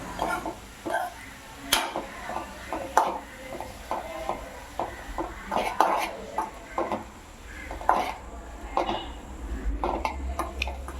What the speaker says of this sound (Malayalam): ചതച്ച കൂട്ട് ചേർത്ത് കൊടുക്കുക ഇളക്കി കൊടുക്കുക